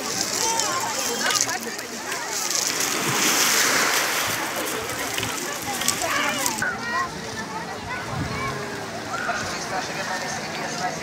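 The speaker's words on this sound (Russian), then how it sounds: "Ну вот сейчас прям поднялся ветерок и начинаются волны." Sea waves washing onto the beach at Lazarevskoye on the Black Sea, a steady broadband surf rush that swells and recedes with a breeze picking up, while a voice talks over it at close range.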